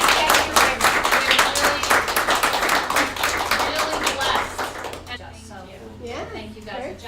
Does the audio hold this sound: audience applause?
yes